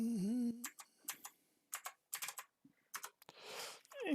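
Fingers tap a computer keyboard nearby in short uneven bursts of crisp clicks with brief pauses, after an electronic tone at the start.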